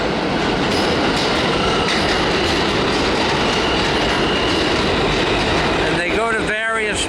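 New York City subway train at the 42nd Street–8th Avenue station, a loud continuous underground roar of wheels on rails, ending in high squealing brake tones as it slows.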